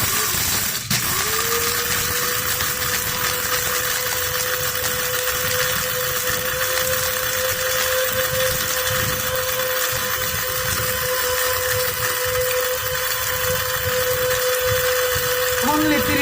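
A high-power grinder switches on with a click and runs at a steady, loud motor whine for the whole stretch, with someone talking over it.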